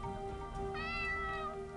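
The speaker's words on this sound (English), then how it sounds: "Oh, there's the cat." A cat in the video game Ara Fell gives a single drawn-out meow, clear and fairly close, over a steady background hum.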